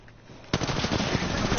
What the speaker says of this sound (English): Getting shot at. Opening fire.